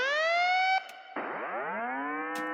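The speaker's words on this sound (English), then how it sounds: "I just took this sound, which is kind of an alarm sound." A synthetic alarm tone sweeps upward, cuts off briefly, then returns as a rising, buzzy siren-like wail, loud and alone.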